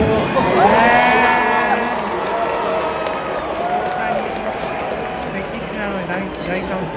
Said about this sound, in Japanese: 大歓声